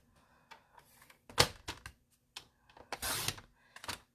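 Paper being cut in half for a folded card, heard as a series of short, crisp crunching and slicing bursts, one louder sustained rasp near the end, close up with no talking.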